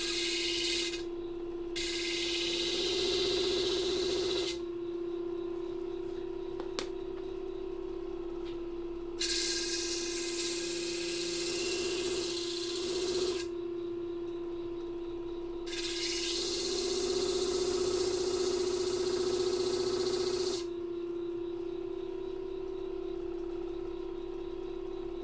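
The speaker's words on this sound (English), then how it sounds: "You don't want to grind too much away." Stained glass pieces pressed against a grinder for an 8-bit Link design: a steady motor hum with repeated gritty grinding bursts of several seconds each, alternating with quieter spinning pauses, close and alone.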